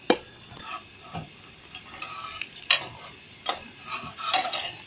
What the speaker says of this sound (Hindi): साथ साथ हिलाते भी जाइएगा।